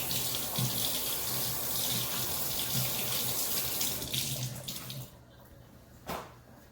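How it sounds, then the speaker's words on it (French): Hands being washed under a running kitchen tap, water pouring steadily and close for about five seconds before the flow stops, followed by a brief splash. "je vais juste aller laver mes mains"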